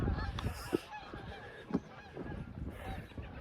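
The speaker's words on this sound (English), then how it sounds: "Hunters are out here, so the geese are on the run." Geese honk repeatedly at a moderate distance outdoors during a disc golf round, scattered calls rising over breezy ambient noise.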